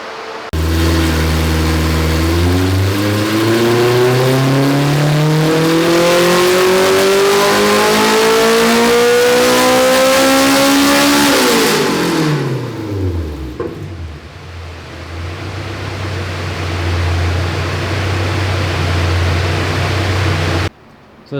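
A K-series Honda Civic engine on a dyno tuning run, revving steadily upward under load for about eleven seconds, then the revs fall quickly and it settles into a loud, steady idle, close and with no talking.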